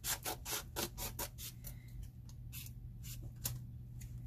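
Scissors cutting open a paper package, a rapid run of crisp snips and rustles close by, slowing into a few separate cuts with no talk.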